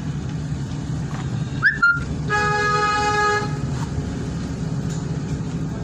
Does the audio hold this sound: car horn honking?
yes